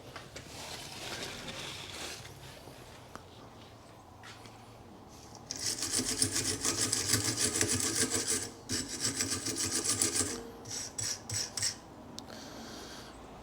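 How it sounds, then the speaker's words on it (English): Wire brush scrubbing front brake parts from a 2009 Fiat 500C 1.2 petrol, first quiet, then loud, rapid rasping strokes in bursts with short pauses, close up and without talking. "So I'll just use a wire brush first, just to dust these off."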